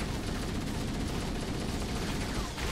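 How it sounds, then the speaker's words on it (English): Gunfire aimed at the player in Halo: Combat Evolved Anniversary, a steady, noisy clatter of rapid shots and bursts filling the scene without pause. "But who's shooting me?"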